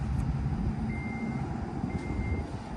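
A power liftgate on a Chevrolet Equinox EV or Blazer EV closes, sounding two short, high warning beeps about a second apart over steady outdoor rumble.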